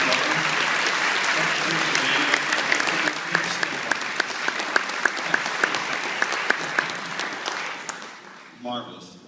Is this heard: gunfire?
no